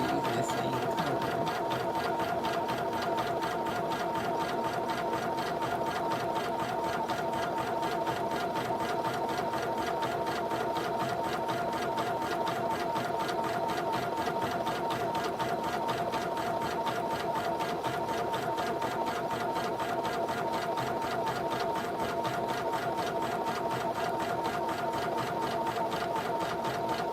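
An embroidery machine sewing a satin stitch, a steady fast mechanical whirring hum with a constant rhythmic needle patter, close and unbroken throughout, with no talk over it.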